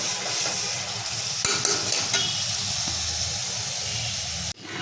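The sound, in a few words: frying lentils for dal bhuna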